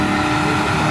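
At a London car meet, a car engine revs hard and loud for about a second in one continuous, roaring burst during wheelies.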